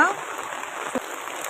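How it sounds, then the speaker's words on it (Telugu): Steady rain pours down through a day-long downpour, a dense, even hiss that fills the scene close by; a faint voice may sound briefly at the start. "సో ఇది ఫ్రెండ్స్ చూస్తున్నారా ఎంత వర్షము"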